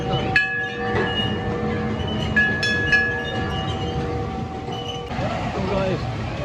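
The Runaway Mine Train, a Zamperla powered coaster at Alton Towers, clatters along its track with steady rumbling, metallic squeals and tonal whines, while people's voices carry faintly in the background.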